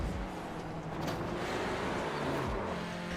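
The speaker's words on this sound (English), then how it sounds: "You can hear his engine after hitting him once." A touring race car engine in iRacing at Motorsport Arena Oschersleben drones loud and continuous. The tone shifts slightly as it runs, with no talk over it.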